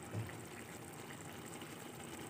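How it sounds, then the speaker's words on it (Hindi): Water gushes steadily into a cooking pan of fried lotus root, a continuous close pouring and splashing sound with no talk. "5 से 6 टेबल स्पून के करीब ये पानी डाल दिया है"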